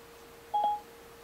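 A single short electronic telephone dialing tone sounds as Siri on Apple CarPlay places a call, a clean brief beep over faint background hum.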